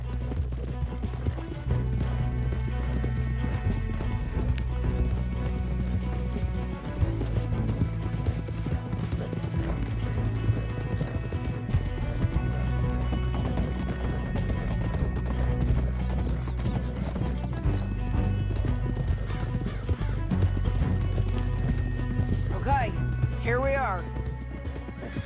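Galloping horses in the video game Red Dead Redemption 2, a steady, rapid drumming of hooves under music and wind for the whole stretch, with a neigh near the end and characters talking over it.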